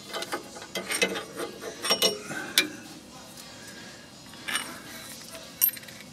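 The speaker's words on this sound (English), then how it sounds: "And then this end link will just slide out." A worn sway bar end link slides out of a car's suspension during replacement, giving a series of faint metallic clicks, scrapes and clanks spread across the moment, with a sharper knock near the end and no talking.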